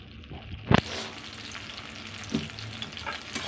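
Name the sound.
frying sankara fish in a pan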